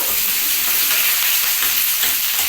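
Eggplant slices fry in a hot pan, a loud, dense, continuous sizzle close by with no voices.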